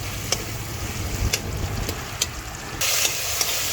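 Tomatoes fry in a pan with a steady, moderate sizzle, broken by a few sharp crackles and spits and a brighter burst of hissing near the end.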